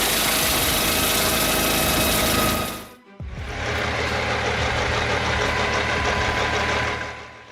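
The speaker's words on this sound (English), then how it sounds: "Its roaring engine reflects the power needed to process hefty logs with ease." A heavy log processing machine's engine roars loudly and steadily at close range, breaks off for a moment, then resumes with the same rough, dense rumble and no voices.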